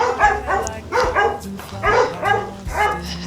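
Puppies on a rural Idaho acreage bark repeatedly at arriving visitors, several short yips and bow-wows in quick bursts, close and loud, with faint background voices.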